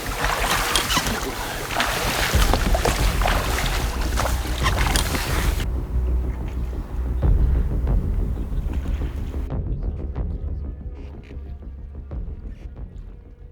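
A boat motor drones steadily up close on the water off Kodiak, Alaska, with gusts of wind buffeting the microphone before the noise thins out.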